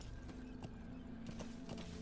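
D-Horse's hooves in a video game, a faint, steady clip-clop of galloping strides spaced evenly under a low background hum, with no talking.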